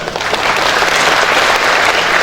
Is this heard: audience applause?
yes